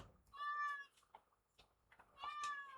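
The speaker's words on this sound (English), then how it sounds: "I hear a cat." Two clear, drawn-out cat meows from a video game, one near the start and one near the end, with quiet game sounds in between.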